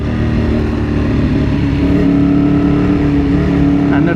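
Motorcycle engine revved hard close up, a loud, dense roar that holds steady and then shifts to a sustained higher tone partway through as the throttle responds.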